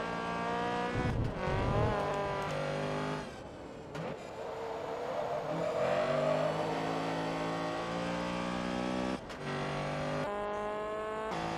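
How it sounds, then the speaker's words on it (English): In the Forza Motorsport 2 race, a Honda Civic's raspy engine howls at high revs, climbing through the gears with short breaks at each shift. Tires squeal faintly at times, and no voices are heard. "Yep, sounds pretty much like a stereotypical Civic."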